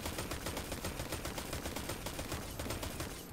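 Dense, continuous rapid-fire shooting in Destiny 2, a fast even rattle of shots held at moderate, slightly distant loudness throughout.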